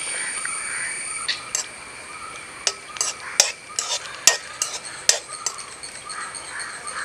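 Cashews and raisins frying in rice bran oil give a steady hiss with sharp clinks and scrapes of a spoon stirring in a pan, close and moderately loud, with no voices.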